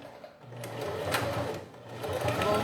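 A sewing machine backstitches a seam on a clear plastic cosmetic pouch made from fabric scraps, running in one close, steady burst with a slight change in pace partway through.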